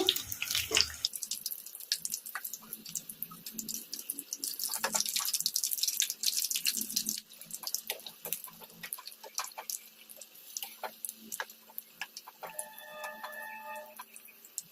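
Onion fritters frying in hot oil, a steady bubbling crackle with dense drip-like pops and ticks that runs continuously and close by, with no talking.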